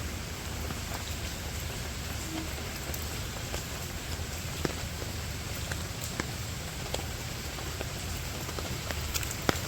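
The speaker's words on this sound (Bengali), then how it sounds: "বৃষ্টি আরো জোরে নামতেছে" Heavy rain pours down in a dense, steady hiss, with scattered sharper drops tapping nearby surfaces. The downpour holds a constant roar from start to finish with no voices over it.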